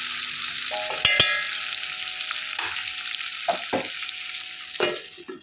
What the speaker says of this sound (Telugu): అడుగట్టకుండా తిప్పుకుంటూ ఉండాలి మధ్య మధ్యలో